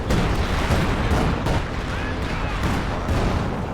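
Artillery shells from a video game barrage land in a rapid run of booming, crackling blasts that overlap each other for several seconds.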